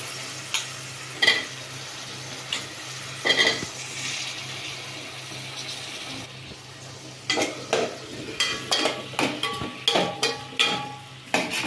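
Brinjal and potato fry sizzles softly in a pan while a spoon scrapes and stirs it in intermittent bursts, with clinks against the metal, close and fairly quiet with no talking.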